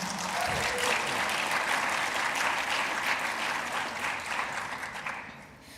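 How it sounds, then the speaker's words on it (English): An audience at the Africa Bitcoin Conference applauds Jack Dorsey and his team, a broad, sustained roar of clapping from a large hall that holds strong for several seconds before gradually thinning and fading out. "So a round of applause for him and his team."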